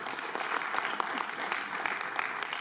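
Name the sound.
audience applause for a comedian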